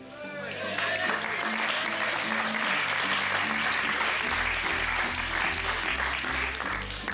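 Audience applause at a magic show, steady clapping from a crowd with music playing underneath throughout.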